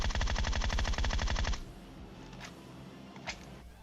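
Rapid automatic gunfire from a PUBG Mobile match rattles loud and steady for about a second and a half, then cuts off, leaving faint distant shots and a brief crack later on.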